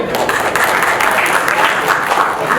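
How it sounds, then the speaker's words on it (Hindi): Audience applause at a Bhojpuri film industry cricket league player auction event, a dense, continuous wash of clapping from a crowd, loud and steady throughout. "मैं चाहूंगा कि इस बार उनके लिए ताली बजे"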